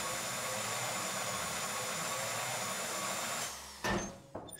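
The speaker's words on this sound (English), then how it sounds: "All right, let's drill this side too." Steady whining drone of a drill boring into safe deposit boxes during a heist in GTA 5, holding loud and constant for over three seconds before cutting off, followed by a couple of short clunks.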